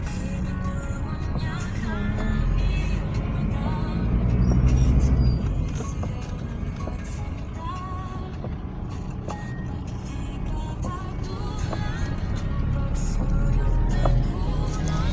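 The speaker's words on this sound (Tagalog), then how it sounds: "Yan ang traffic sa Molino guys." Heavy road traffic in Molino rumbles continuously with truck and car engines, a reversing beep and brake hiss mixed in, the drone swelling midway.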